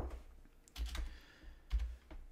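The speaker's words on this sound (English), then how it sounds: "I'll just type it in." Quiet typing on a computer keyboard comes in short bursts of soft key clicks separated by brief pauses.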